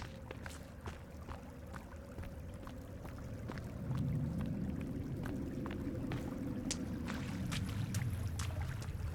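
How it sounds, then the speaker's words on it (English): Running cave water in Sons of the Forest trickles and pours with a soft, continuous wash, growing a little fuller midway, punctuated by faint clicks and drips in a quiet, echoing space. "Too bad you can't drink this cave water right here."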